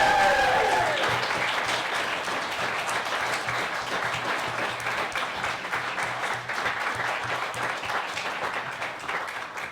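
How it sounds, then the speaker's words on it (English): Warm applause from a live comedy podcast audience in a pub venue, starting strong with a whoop and continuing as a steady dense wash of clapping for several seconds. "a very special round of applause for Always Be Comedy's very own Tim Lewis"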